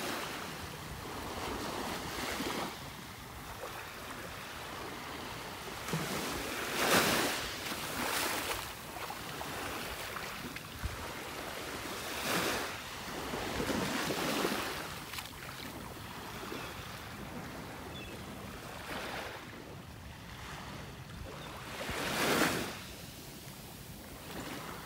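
Ocean waves on a beach in North Naples, Florida, breaking and washing ashore in repeated surges every few seconds, with wind buffeting the microphone between them and no talk.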